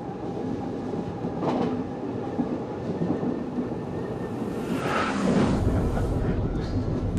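A train rumbles along the rails in the Gail River Valley of the Carnic Alps with a steady low roar and faint rhythmic clatter, swelling louder toward the end.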